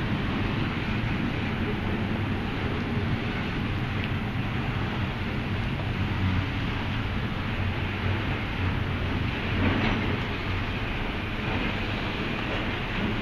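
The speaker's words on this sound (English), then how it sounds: "But the rain though, the fucking pouring rain" Heavy thunderstorm rain pours steadily beside a railway in Austell, Georgia, a dense, loud hiss that stays unchanged throughout, with no voices over it.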